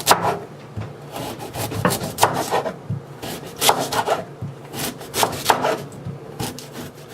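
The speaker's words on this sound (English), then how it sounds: "we're going to make a sweet potato fry. So we're going to just cut these like so" A knife cuts sweet potatoes into fries on a wooden board, giving a run of firm, crisp chops and slicing strokes in an uneven rhythm, close and clear, with no talking.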